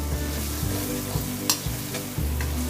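Potatoes and tomato for sabudana khichadi fry in a pan, a continuous close sizzle broken by a few spatula stirs and scrapes, with no voices.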